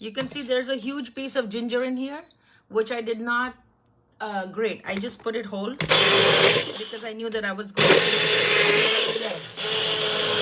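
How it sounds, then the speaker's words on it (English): A stick blender whirs loudly through butternut squash and tomato soup with whole ginger, starting after someone speaks and running in two long bursts with a brief pause between them. "So I'm gonna go in with my stick blender"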